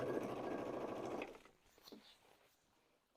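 Sewing machine stitching faux leather pants, a steady close motor whir for over a second that then stops, leaving a quieter stretch with faint handling sounds.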